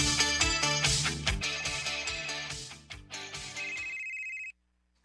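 A mobile phone rings with a repeating electronic ringtone melody, loud and close, before cutting off abruptly near the end and leaving silence.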